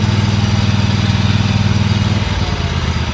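A Dixie Chopper XG2503 riding lawn mower engine revving loud and close, a steady throbbing drone that holds even and then eases slightly toward the end, blades not engaged.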